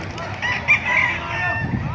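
Gamefowl roosters, including F1 White Hatch, crowing amid a noisy crowd of fowl, drawn-out calls overlapping with a steady background din.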